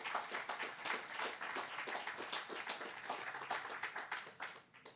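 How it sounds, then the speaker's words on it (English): A crowd at a groundbreaking ceremony claps in applause, a dense, steady patter of many hands throughout, fairly faint and slightly distant. "Let's give them a round of applause and thank them."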